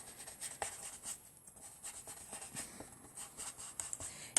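A pen inks the black outline of a Halloween pop-up card, a faint, close scratching of nib on paper in short strokes and pauses, with no talking.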